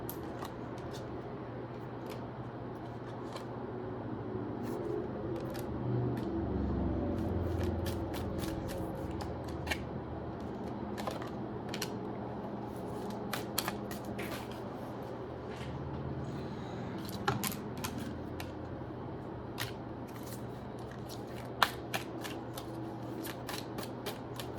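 Tarot cards being shuffled and pulled for a reading, with soft crisp card snaps and flicks scattered throughout, close but quiet over a low background hum.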